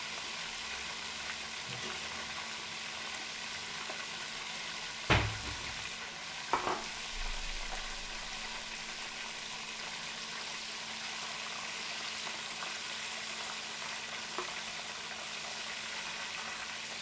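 Scampi fry in a pan with a steady, even sizzle throughout, broken by a couple of brief clanks from stirring or moving the pan, moderately quiet and with no talking.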